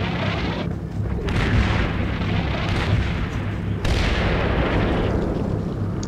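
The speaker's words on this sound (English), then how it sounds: "Someone's firing on us." Heavy, continuous rumbling booms and distant battlefield fire in the tactical war game Combat Mission: Red Thunder, a dense, loud wash of explosions and shots with no pauses.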